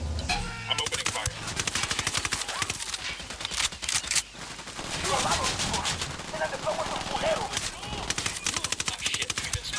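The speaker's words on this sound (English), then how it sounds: "I'm opening fire." Gunfire in Ghost Recon Wildlands: rapid automatic bursts and overlapping shots crackle nearly nonstop in a close, loud firefight, with a short lull midway and voices shouting among the shots.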